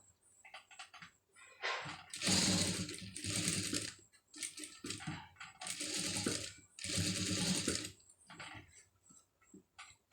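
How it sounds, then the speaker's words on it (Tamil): A sewing machine stitches a scallop design in blue thread on a blouse sleeve, whirring in several distinct runs of a second or two each, separated by quiet pauses and a few light clicks. "மேலே வந்து இப்போ தைச்சிடலாம்"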